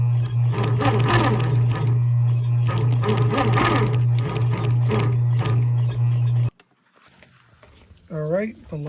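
A sewing machine stitches Prada ostrich bag lining pieces together, a loud, close, steady rapid whirring with a strong motor hum that stops abruptly after about six seconds, followed by a brief spoken voice.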